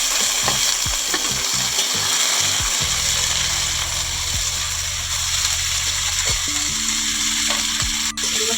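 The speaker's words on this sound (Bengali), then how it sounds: "দিয়ে ভালো করে ভাজা ভাজা করে নেব" Chopped carrot, egg and peas fry in a wok for fried rice, a steady close sizzle with repeated scraping and knocking of a spatula against the pan, no one speaking.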